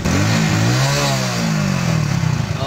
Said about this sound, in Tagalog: napaandar niya ang kanyang motorsiklo gamit lang di umano ang tubig